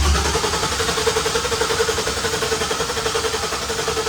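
A 1000 hp BMW E46 engine turning over, a loud steady rhythmic cranking pulse that repeats evenly throughout, close up with no voices.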